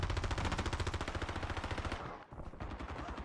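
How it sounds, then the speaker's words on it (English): A video game airstrike pounds down as a rapid, evenly spaced barrage of loud blasts that thins out briefly near the end and then resumes. "That's an airstrike."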